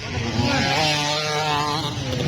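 A motorcycle engine running loud and close with a steady droning rumble and slight pitch shifts, continuous throughout.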